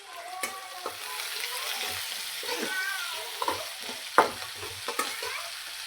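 Green chillies frying in oil in a pan for green gram curry, a soft steady sizzle punctuated by intermittent spoon clicks and scrapes against the metal, close and fairly quiet, without speech.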